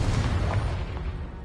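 A Confringo spell explodes in Hogwarts Legacy, a loud, deep burst with a broad noisy roar that fills the moment and slowly fades, with no voices over it.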